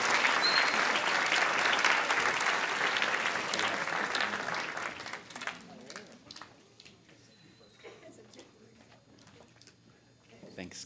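Applause from a band banquet audience starts loud and dense, then thins over several seconds into scattered claps as voices start talking.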